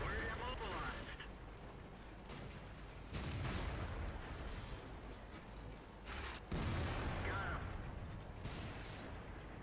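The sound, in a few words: IS-6 tank firing shells in video game World of Tanks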